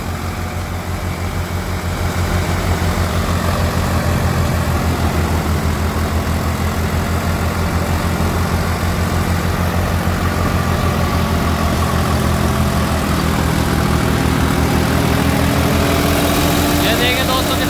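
A Sonalika RX 50 DI tractor engine runs steadily at idle, a continuous low rumble that holds loud and even throughout, without clear speech over it.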